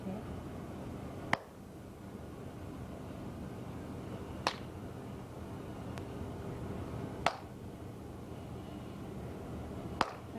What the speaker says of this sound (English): So now go on and clap again.